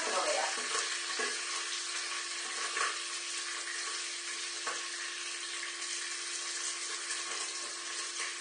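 Pieces of rabbit fry in hot oil with a steady, dense sizzle and crackle, loud and close, with faint splutters rising above the even hiss and no talk over it.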